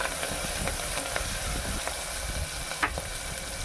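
Curry leaves crackle and sizzle in hot oil as they are stirred in, a steady hissing fry close by with scattered pops and soft spoon scrapes, no talking.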